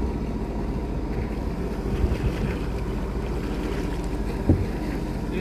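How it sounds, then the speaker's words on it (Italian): A boat's propeller churning murky, sewage-tainted seawater off the coast, heard as a steady low engine rumble mixed with wind buffeting the microphone and a wash of water, loud and continuous. "con le bolle dell'elica proprio l'acqua diventa fangosa"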